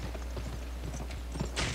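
Horse hooves clip-clop in the video game Gun, a quick run of soft rhythmic knocks over a low steady hum, ending in a brief louder burst.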